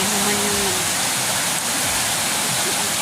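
Floodwater rushing down a swollen river beside homes as a storm approaches, a loud, unbroken roar close by, with a voice briefly talking underneath.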